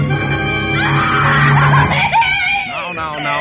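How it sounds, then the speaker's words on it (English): A woman lets out a loud, sustained high shriek that rises and wavers, close and intense, in a dramatic radio-style night scene. "And then she threw up her hands and shrieked."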